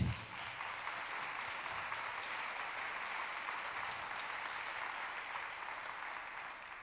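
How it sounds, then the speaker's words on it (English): Steady, dense applause from an audience at a social enterprise pitch competition, loud and sustained throughout with no voices over it. "So perhaps a round of applause for everybody at this point."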